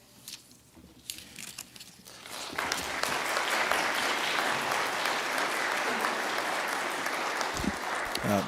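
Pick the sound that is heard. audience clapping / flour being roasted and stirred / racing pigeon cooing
audience clapping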